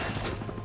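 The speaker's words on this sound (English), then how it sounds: "I'm gonna keep using the bomb glove here." Bomb Glove blasts in the Ratchet and Clank 4 video game on Blarg Station, a dense burst of explosive booms filling a short, loud moment with no voices.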